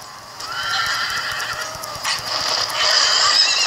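Horses whinny loudly over clattering hooves and creaking gear in a Game of Thrones Telltale video game scene, with high neighs rising near the end.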